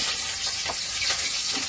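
Onion and garlic frying in a pan for chicken adobo, a dense, steady hiss of hot oil sizzling close up with no talk.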